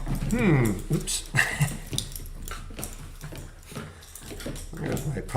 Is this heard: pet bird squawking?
no